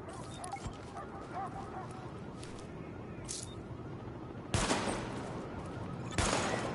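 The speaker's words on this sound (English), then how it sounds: "Open fire at the highlighted targets." Two sharp gunshots at targets in The Division, spaced a couple of seconds apart over a steady background ambience with faint honking noises.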